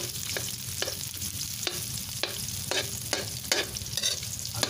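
Garlic sautés in a pan with a soft, steady sizzle and regular stirring scrapes about every half second, close and fairly quiet.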